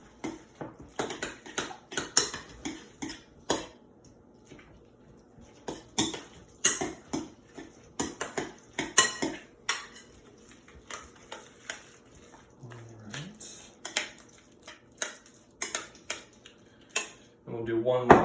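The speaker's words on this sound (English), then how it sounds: "Then we're going to take a spoon to mix that" A spoon mixes guacamole in a bowl, giving irregular close clinks and taps against the bowl with short pauses between strokes; a voice speaks briefly at times.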